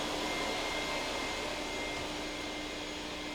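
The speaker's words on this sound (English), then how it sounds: "I vacuum out electrical boxes, heating ducts, and clean up around window openings." A vacuum cleaner drones steadily and loudly at close range while cleaning out electrical boxes and heating ducts in a freshly drywalled room, with no pauses or voices.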